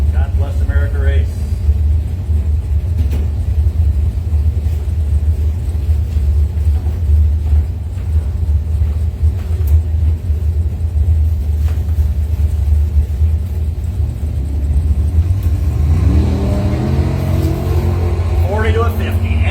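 Mopar drag race cars, including a 1980 Plymouth Volare, in a bracket race, a loud low engine rumble holding steady throughout and rising into a revving, accelerating whine near the end, with announcer-style talk over it.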